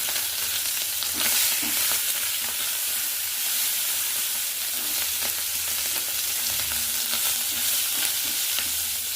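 Prawns fry in oil tempered with black cumin seeds, a steady close sizzle and crackle running throughout with soft stirring scrapes and no voices.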